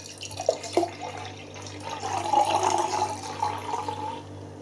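Beavertown Lonsmorn 1992 barrel-aged Heavy Water imperial stout pours into a long-stem glass, a close liquid gurgle and glug with a couple of short splashes before a steady stream.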